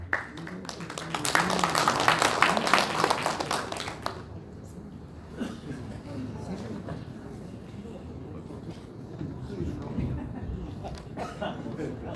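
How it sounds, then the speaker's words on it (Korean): An audience at a football association chairman's inauguration and football night gives dense applause for about four seconds, welcoming a speaker before a voice begins talking over a quieter room. "힘찬 박수로 맞이하겠습니다."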